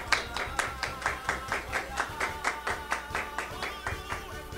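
An audience applauding a lecture by Hérold Toussaint, steady rhythmic clapping in a regular beat, moderately quiet and continuous throughout.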